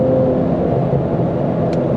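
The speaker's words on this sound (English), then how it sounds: "Fourth gear pull." Tuned Infiniti Q50 accelerating hard in fourth gear, a loud, steady engine drone and road roar heard from inside the cabin, with no talk.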